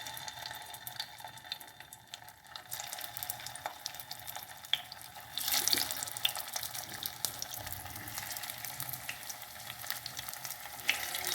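Harbhara (chickpea) kebabs deep-fry in hot oil with a steady, crackling hiss that swells partway through and stays dense and close, with no talking.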